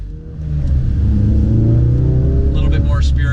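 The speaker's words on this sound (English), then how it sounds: "A little bit more spirited acceleration, just getting into traffic. Exhaust sound is good." A Ford Focus RS (2016–2018) fitted with an MRT cat-back performance exhaust accelerates into traffic, its steady loud engine rumble droning throughout while someone talks over it.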